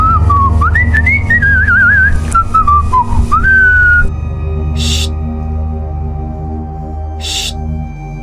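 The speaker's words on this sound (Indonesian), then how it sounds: "Salahnya si Raka, dia pipis sambil bersiul gitu" A clear, melodic whistled tune with sliding pitches for about four seconds over a steady low hum, followed by quiet background noise, on Mount Lawu at night.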